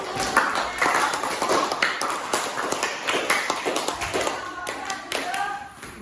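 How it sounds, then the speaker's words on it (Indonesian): Students in a classroom clap for their classmates after a presentation, a dense run of sharp hand claps lasting several seconds, close and fairly loud, with scattered voices mixed in. "Tepuk tangan buat teman-teman"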